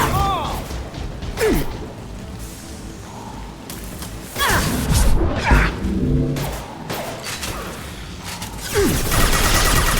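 Sci-fi weapon fire in Mass Effect 2, scattered bursts of gunshots with whooshes and thuds, mixed with game sound effects and a voice speaking over the action.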